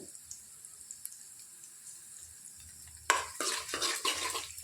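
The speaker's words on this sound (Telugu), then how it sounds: "బాగా ఫ్రై చేసుకోవాలి. హాఫ్ టేబుల్ స్పూన్ జీలకర్ర వేసుకోవాలి." Cumin seeds and onion fry in oil for a spinach and mango dal, starting with a faint low background, then a sudden loud burst of crackling sizzle and stirring scrapes for the final second and a half.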